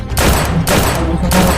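Sniper rifle fire in a video game, heard as three loud, dense bursts of gunfire crashing one after another across the short stretch.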